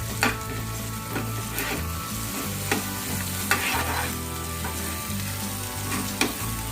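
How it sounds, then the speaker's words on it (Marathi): Ginger-garlic-chili paste frying in hot oil with onion for Malvani chicken, sizzling steadily while a spoon scrapes and stirs the pan in several sharp clacks. "आता आलं लसूण मिरचीची पेस्ट टाकायची आणि जरा ढवळून घ्यायची तेलामध्ये."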